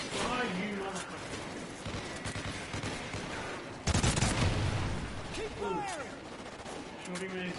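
Gunfire in the Call of Duty Ghosts video game crackles in rapid, repeated bursts, with a heavy blast near the middle. The firing stays loud and close, and people shout over it.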